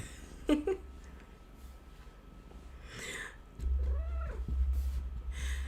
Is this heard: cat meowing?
yes